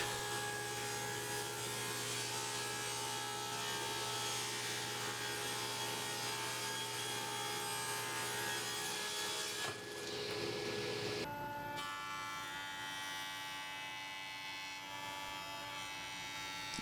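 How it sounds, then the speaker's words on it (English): Saw blade cutting cherry wood table legs, a continuous steady whine and rasp of the cut with a constant machine hum, the tone shifting abruptly partway through as the cut changes. "Now here you can see I'm just cutting 2 sides of my legs."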